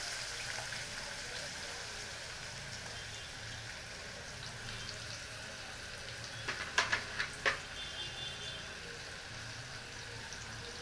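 Onion dropped into hot oil with a pinch of asafoetida, cooking for Kolhapuri soya bhaji, gives a steady, quiet sizzle throughout, with a few brief clinks of a utensil partway through.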